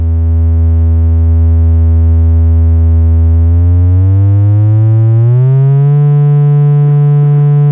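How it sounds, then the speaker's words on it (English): Triangle wave from a DIY modular synth passed through a barely engaged low-pass filter, a loud, steady buzzy tone that glides upward in pitch partway through and then holds. "you won't notice much of a difference between this barely filtered triangle wave and the raw triangle wave"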